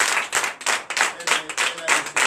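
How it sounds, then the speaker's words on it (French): A church congregation at a Sunday service claps in a fast, regular rhythm, about eight distinct group claps in quick succession, with some voices faintly underneath. "Donnez l'acclamation."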